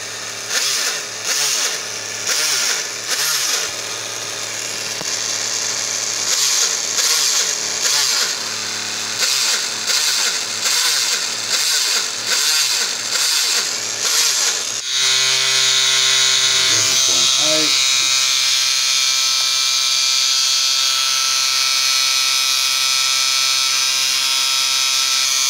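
A Scalextric A9X Torana slot car motor spins up on a dyno, giving a buzzy electric whine that surges in repeated bursts, then holds a steady, louder high-pitched run with a few rev changes.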